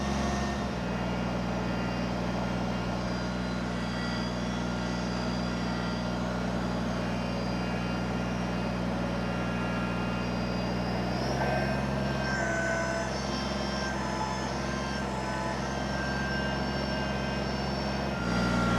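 A compact BX tractor rumbles steadily as it drives, lifts and carries a heavy rock, its engine drone constant and close with a slight shift in tone partway through, and no talking.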